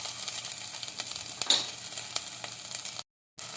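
Ginger and garlic sizzle steadily in hot oil with cumin and mustard seeds, a soft continuous frying crackle with a brief stir near the middle, heard alone without talk and cutting out briefly near the end.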